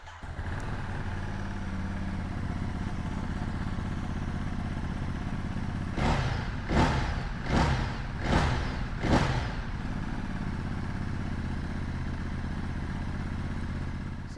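Ducati Monster 937 Plus motorcycle engine idling steadily and close, with a burst of four sharp throttle blips in the middle before settling back to a low idle.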